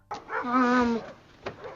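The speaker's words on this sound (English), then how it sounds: "The dog again." A dog in a Modern Family TV scene gives a drawn-out, rising whining yelp, then a short sharp bark a moment later, fairly close with no talk over it.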